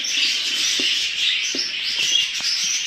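Several small caged birds chirping and twittering continuously at close range, high busy calls overlapping, with a few soft taps and rustles underneath.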